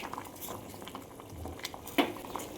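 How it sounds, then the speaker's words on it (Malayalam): Water with tea powder, brewed as a hair-care rinse, boils in a pot with a soft, continuous bubbling at close range and one brief metallic clink partway through. "ഇനി ഇതെല്ലാം കൂടി ഒന്ന് നന്നായിട്ട് തിളച്ച് വരട്ടെ"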